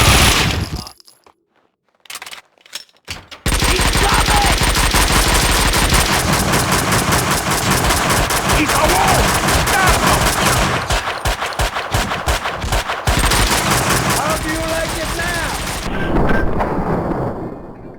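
Sustained, loud automatic gunfire from the video game Max Payne, rapid dense bursts rattling almost continuously for about fifteen seconds after a short opening volley and a brief lull, with no voices over it.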